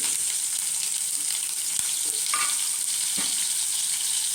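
Mustard seeds and onion sizzle steadily in hot oil in a pan, cooking for a traditional ridge gourd gojju. The frying hiss is constant and fairly loud, with a few faint pops and stirring taps.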